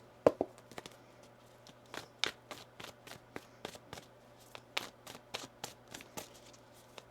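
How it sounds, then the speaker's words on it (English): A tarot deck being shuffled by hand gives a quiet run of crisp, uneven card slaps and riffles, close up, with no voices. "One more shuffle here."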